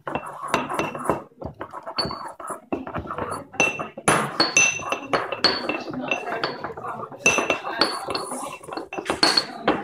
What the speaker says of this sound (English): Then we have to mix it again.